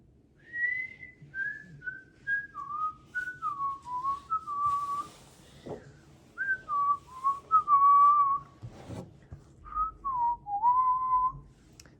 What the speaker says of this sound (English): I was whistling today